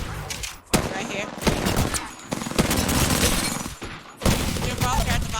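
Rapid automatic gunfire in a battle royale video game, loud bursts of shots in several long volleys broken by brief pauses, with a voice talking over the shooting.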